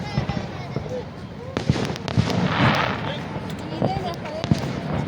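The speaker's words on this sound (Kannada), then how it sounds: "ಫೈರ್ ವರ್ಕ್ಸು ಅದು 10 ಮಿನಿಟ್ಸ್ ಇರುತ್ತೆ." Fireworks bursting over Niagara Falls, a series of sharp cracks and pops scattered across the clip, moderately near, mixed with crowd noise and a voice talking.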